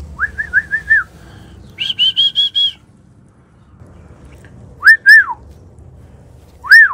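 A person attempts to whistle in short bursts: a quick trill of notes, a higher run, then a few breathy rising-falling tones with pauses between.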